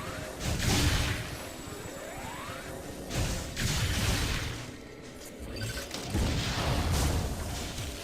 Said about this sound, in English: you shoot him with a missile, bounces off. Charge beam shot, bounces off.